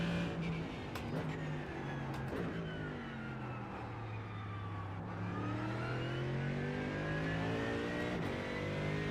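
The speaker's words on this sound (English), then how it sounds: "the outboard sound of the Corvette sounds awesome" A Corvette GT3 race car in the iRacing sim roars past outside on track, engine note swooping down in pitch with gear shifts and a Doppler drop, loud and close against a steady background hum.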